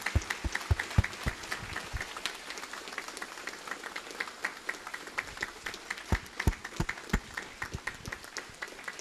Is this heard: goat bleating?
no